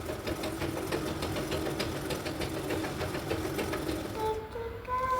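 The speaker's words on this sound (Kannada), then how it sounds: "ಇವಾಗ ಇಲ್ಲಿ ಲಾಸ್ಟ್ನಲ್ಲೂ ಕೂಡ ಒಂದು ಸ್ಟಿಚಿಂಗ್ ಲೈನ್ನ ಹಾಕೊಳ್ಳೋಣ." A sewing machine stitches a seam on a boat neck blouse, running close and steady with a fast, even mechanical clatter.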